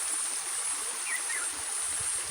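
Water rushing steadily along in a continuous hiss, with no voices.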